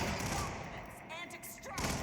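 Gunfire in the Hitman World of Assassination video game, loud dense bursts of shots packed together with game sounds, and a voice talks through part of it.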